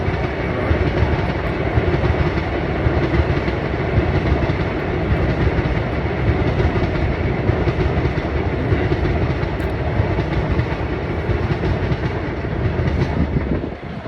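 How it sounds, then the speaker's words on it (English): A train rolls past close by, a loud, steady rumble with rhythmic clickety-clack of wheels on rails lasting throughout, with no voices. "Goddamn train."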